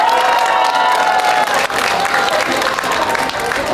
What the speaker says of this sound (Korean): 용기 내서 얘기해보라고 응원의 박수 한번 쳐주시면 감사하겠습니다.